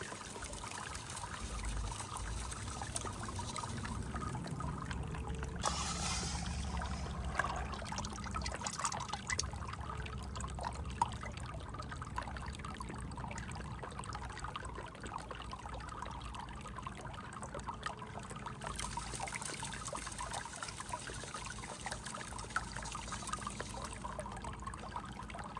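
Water trickles and splashes steadily through a sluice box, a continuous close rushing flow with some louder gurgling surges and no voices.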